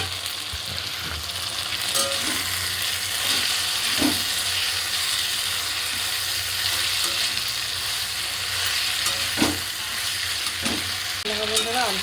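Spice masala for a potato and pointed gourd curry is sautéed in oil in a pan, giving a steady, loud hissing sizzle for twelve seconds with occasional scrapes and taps of the spatula.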